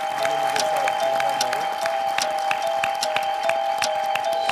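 Audience applause at a Turkish inventors' show, a continuous dense patter of many hands clapping over a steady tonal hum, moderately loud throughout.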